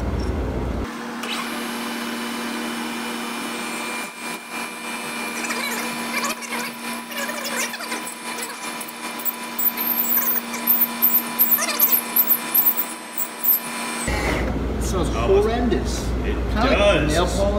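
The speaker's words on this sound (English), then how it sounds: "we're gonna drill it out, then use a Woodruff key cutter to just plunge in" Machining work on a metal part: a steady drilling whine running for about thirteen seconds before it gives way to a Woodruff key cutter plunging in, close and continuous.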